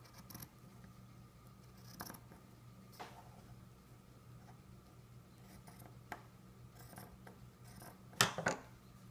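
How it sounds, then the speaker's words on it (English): Scissors cut along the fold of cotton fabric for a hospital mask, faint and close, with scattered soft snips and rustles and a sharper cluster of cuts near the end. "I'm cutting along the fold to separate out the two"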